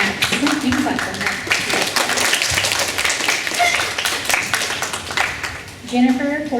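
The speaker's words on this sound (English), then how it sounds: "You can clap for" Sustained applause from a seated audience at a 2022 DARE graduation, many hands clapping steadily and fairly loudly throughout, with a faint voice briefly audible near the end.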